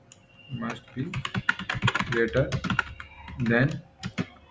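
Quick clicks of a computer keyboard as code is typed, light and close, running underneath a voice speaking Hindi.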